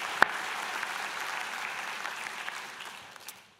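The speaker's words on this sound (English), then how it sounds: "how about a round of applause for the graduating class of 2019?" A crowd applauds for the graduating class of 2019 at a School of Health convocation ceremony. The clapping is steady and dense, a single sharp clap stands out near the start, and the sound fades out at the end.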